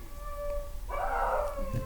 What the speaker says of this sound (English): He's not in distress. He just loves to howl.